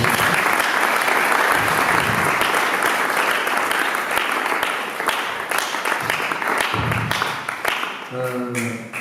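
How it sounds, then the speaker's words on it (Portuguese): A youth church gathering gives a sustained round of applause, dense close clapping that stays strong, thins slightly midway, and ends as a voice and a musical tone come in. "eu vou pedir a todos uma salva de palmas para vocês"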